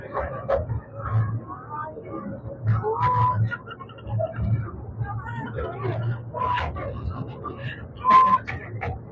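At Nehru Zoological Park in Hyderabad, a person imitates a train whistle with a few high, drawn-out whistled notes amid steady background chatter and low rumbling.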